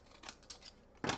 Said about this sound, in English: My handy dandy decollage scissors that never fail me.